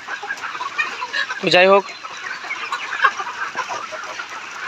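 Layer chickens on a poultry farm cluck in a steady background chorus, with one nearer hen giving a brief rising squawk; someone speaks briefly over the flock.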